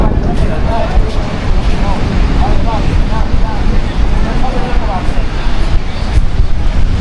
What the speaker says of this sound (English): I'm not sure if that wind's going to be picking up on the camera.